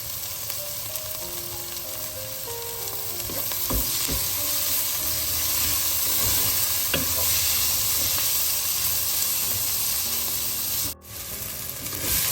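Onions frying with crushed ginger and garlic for a paneer biryani give a loud, continuous sizzle and hiss, with scattered stirring scrapes and a brief dip near the end, heard close with no speech.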